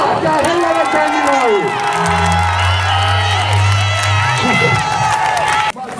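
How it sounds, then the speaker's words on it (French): A large crowd at a religious crusade in Ngaoundéré, Cameroon, cheering and shouting in acclaim, loud and sustained, with voices rising over amplified sound. "Tu acclames le Seigneur."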